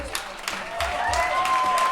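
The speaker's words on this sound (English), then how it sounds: "A big round of applause for Anissa, ladies and gentlemen." Wedding guests applauding on a dance floor, a moderate clapping crowd that swells slightly toward the end, with music or tones faintly underneath.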